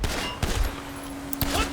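Gunfire in a Marvel X-Force and Avengers video game featuring Deadpool: a couple of sharp shots punctuate a short noisy stretch amid game ambience.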